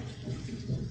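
Flowing water ambience from the role-playing game Geneforge 2, a brief steady rush and splash of moving water heard close and alone without speech.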